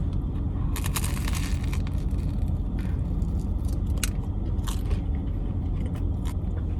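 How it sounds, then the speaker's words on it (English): Crisp crunching bites into crusty sandwich bread, several crackly bursts close up over a steady low background rumble, with no talking. "The bread's really crispy too."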